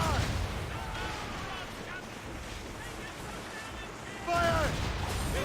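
Naval cannon fire aboard sailing ships in Assassin's Creed Rogue, booming over constant wind and sea noise, with a louder blast near the end and shouting voices at sea.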